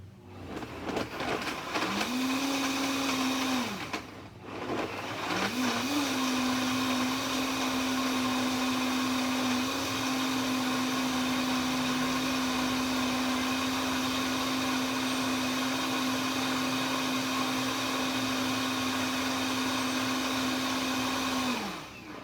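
A blender whips a thick cashew sauce, its motor whining steadily and loudly, briefly cutting out and restarting early on, then running continuously until it stops at the end.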